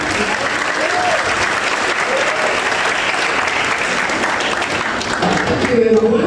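Loud, sustained applause from a lecture audience welcoming a professor, a thick, even roar of clapping with voices faintly audible underneath.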